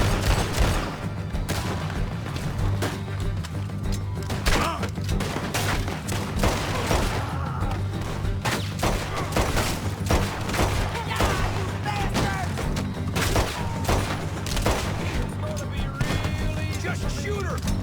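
Heavy gunfire in the Red Dead Redemption 2 video game, a continuous barrage of sharp shots and booms stacked over a steady low rumble, loud and unrelenting throughout.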